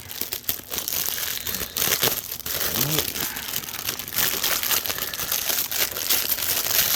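A cardboard card being pulled off Super Famicom game packaging, loud close crinkling and tearing of paper and plastic that goes on throughout with brief pauses.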